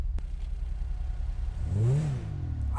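A Toyota Mark X car engine in the video game GTA 5 hums low, then briefly revs up and falls back, rising in pitch for a moment before settling into a steady drone.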